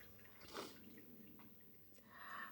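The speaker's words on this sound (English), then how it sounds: "finish listening to my fountain that's in the background, the water you may hear" Indoor water fountain trickling softly in the background, a faint, steady patter of drips with a few slightly louder splashes, quiet and continuous without any voices.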